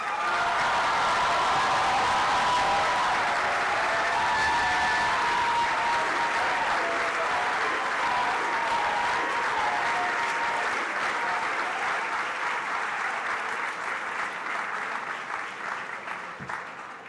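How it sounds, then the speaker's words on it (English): Sustained applause from a large crowd at an awards ceremony, loud and steady for most of the stretch, tapering slightly toward the end. "please stand so we can recognize you with a well-deserved round of applause"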